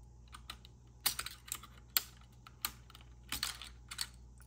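Cherry MX Blue switches on a Logitech K845ch mechanical keyboard clack in scattered bursts of crisp, clicky keystrokes, close and fairly quiet, with short pauses between groups and no talking.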